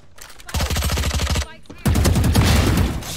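Rapid automatic gunfire from a Valorant match, with a fast, evenly spaced burst of about a dozen shots, a short pause, then a louder, denser stretch of shooting that runs to the end.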